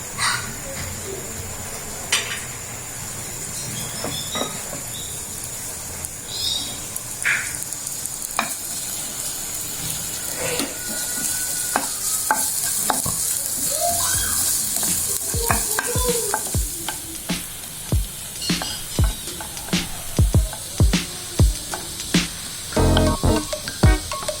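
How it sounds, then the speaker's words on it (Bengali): Onion and chopped garlic fry in a little oil in a pan for banana stem curry, sizzling steadily while a utensil stirs and scrapes, with sharp clicks against the pan toward the end and no voice. "দিচ্ছি পেঁয়াজ, রসুন কুচি"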